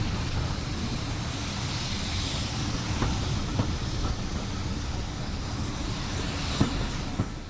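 A heritage railway train at a spring steam gala on the Severn Valley line rumbles steadily along the rails, a continuous low roar with a few faint clicks of wheels over joints and no talk.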